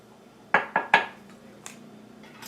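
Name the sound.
cutting butter into flour mixture in bowl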